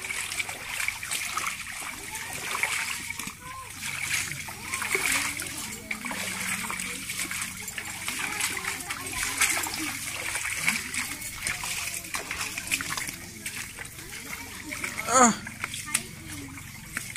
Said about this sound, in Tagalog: Baha po dito sa Payatas.